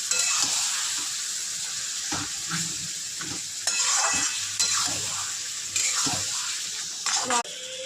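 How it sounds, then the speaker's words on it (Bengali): Marinated mutton pieces fry with onions in a hot pan, giving a steady loud sizzle broken by repeated scraping and clattering of a spoon against the metal as the meat is stirred. "এবার মাংসটা দিয়ে দিচ্ছি, ম্যারিনেট করা হয়ে গেছে, এবার দিয়ে দিলাম। এবার এটা কষাবো।"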